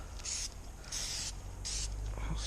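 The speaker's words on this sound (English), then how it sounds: "Spray the hub." Cleaner sprayed onto a Subaru STI wheel hub during a brake rotor install: four short, hissing spray bursts in a steady rhythm, close by and fairly quiet, over a low background hum.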